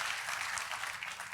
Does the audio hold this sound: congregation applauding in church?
yes